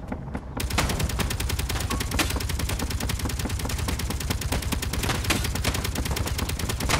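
Sustained gunfire aimed at the player in the Space Engineers video game, a dense continuous rattle of rapid shots that starts abruptly and keeps going loud and steady without a break.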